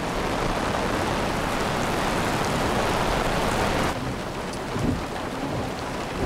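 Heavy rain pours steadily as a loud, even hiss, easing slightly partway through, with a low distant rumble of thunder in the background.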